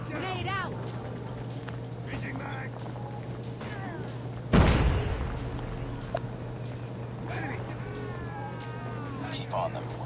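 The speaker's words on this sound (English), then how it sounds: "Grenade out." A grenade goes off in a first-person shooter, one loud boom midway with a rumbling tail, under steady talking and a constant low hum.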